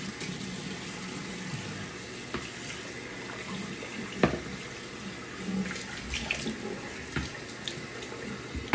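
Tap water runs steadily from a bathroom faucet into a sink to rinse off after a wet shave, a continuous moderate splashing stream with a few small knocks, no voices.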